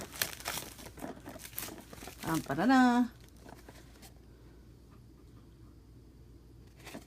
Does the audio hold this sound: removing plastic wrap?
yes